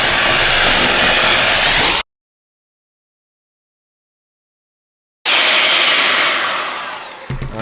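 Electric mixer whirring loudly as cream is blended into chocolate, a steady high-pitched drone that cuts out for a few seconds of silence, then resumes and gradually slows toward the end.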